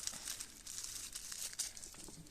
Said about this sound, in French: J'ai préparé une petite pochette en papier bulle.